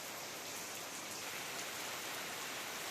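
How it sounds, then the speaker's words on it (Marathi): Pre-monsoon rain falls steadily, making a dense, even hiss with no distinct drops, soft and continuous throughout, with no voices. "मान्सून पूर्व स्वरूपाचा पाऊस पडत असल्याची माहिती हवामान विभागाने दिलेली"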